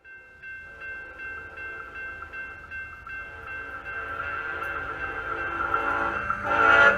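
EMD SD70MAC locomotive rolling over a camera laid on the track, its horn holding a steady tone while the rumble and rattle build louder toward the close.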